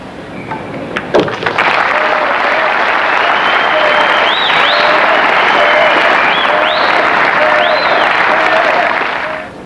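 A crowd watching the 1999 World 9-Ball Championship final breaks into loud applause after a pool shot, with whistles and cheers over steady clapping that starts suddenly and holds for several seconds.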